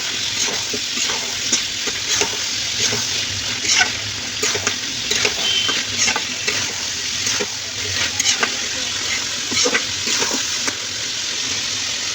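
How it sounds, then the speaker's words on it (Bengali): Meat that has been browned in a pan for a home-cooked Bengali curry is splashed with water, giving a steady sizzling hiss with intermittent clinks and stirring scrapes throughout. "মাংসটা আমার কষানো হয়ে গেছে এখন আমি জল দিয়ে দেবো"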